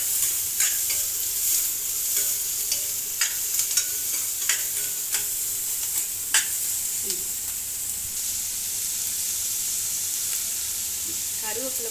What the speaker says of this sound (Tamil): நல்லா மிக்ஸ் பண்ணி கொடுத்துட்டோம்னா இது நல்லா வதங்கணும்